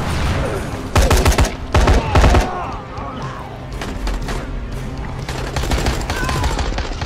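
SMG gunfire in the zombie game Dying Light: The Following, two loud close bursts of rapid automatic shots followed by lighter scattered shots and echoing impacts over game ambience.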